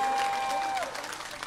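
Audience applause at a live 2022 show, a steady broadband clapping wash from the crowd, fairly loud and continuous, with a sustained tone fading under it toward the end.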